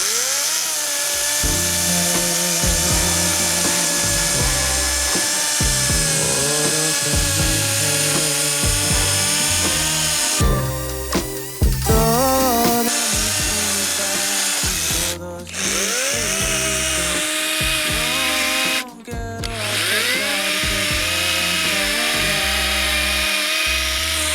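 A Volpi KVS5500 cordless battery chainsaw cuts through dead, dry standing wood, its steady high electric whine running continuously and loud, dipping briefly as the chain bogs in the cut, with no talking.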